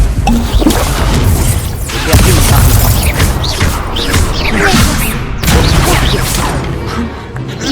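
Spell blasts and impacts in the Hogwarts Legacy video game, a run of loud crashing booms and whooshes with a fiery Confringo burst, dense and continuous throughout.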